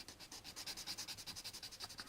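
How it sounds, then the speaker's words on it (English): Back-and-forth sanding on a plastic model kit part, the warp drive engine of an AMT 1983 U.S.S. Enterprise, makes quick, quiet, even rubbing strokes in a steady rhythm, close and alone. "do our cross sanding again"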